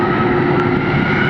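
A jet airliner at Atlanta Hartsfield-Jackson International Airport roars loudly and steadily, a broad continuous engine rumble with a whining tone on top and no pauses.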